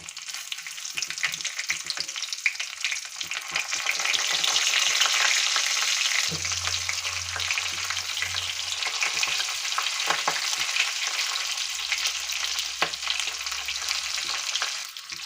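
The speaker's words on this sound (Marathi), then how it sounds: "तर ह्या मिरच्या मी छान तेलामध्ये सोडलेल्या आहेत" Masala-stuffed green chillies fry in oil in a covered pan, producing a loud, continuous sizzle that swells and holds steady throughout with no speech.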